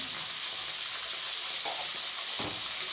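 Vegetables seasoned with turmeric and salt fry in a pan with a loud, continuous sizzle. Two short clatters of stirring cut through the hiss near the end.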